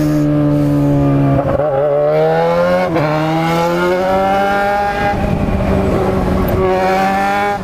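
A Yamaha XJ6 motorcycle engine revs loudly and continuously, its pitch climbing and dipping in repeated throttle blips, close up with no talking.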